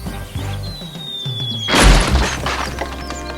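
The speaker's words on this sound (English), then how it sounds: "A crate of treacle was upset all over Percy." A crate of treacle crashes and breaks aboard Percy the tank engine in a children's railway story, giving one loud shattering crash with a heavy thud against a quiet background of music.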